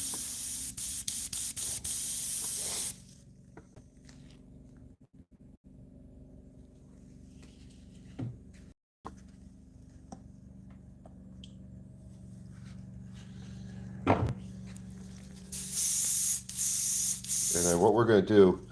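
An airbrush sprays white paint dots in sharp, loud hissing bursts, one at the start and several near the end, with quieter stretches of faint background sound between them.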